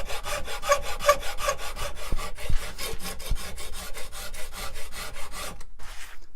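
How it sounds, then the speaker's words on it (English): A wood rasp files the edge of a wooden banjo neck in fast, even back-and-forth strokes, a loud rhythmic rough scraping up close that stops abruptly near the end. "So this is a handy rasp to have in your tools."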